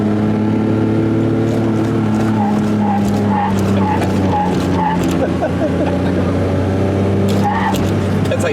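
A cheap $600 project Pontiac Firebird drives hard with heavy torque steer, its engine droning loudly and steadily while tires chirp and squeal in short bursts throughout.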